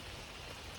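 Light rain patters steadily on surfaces outdoors during tree planting, soft, even and without speech.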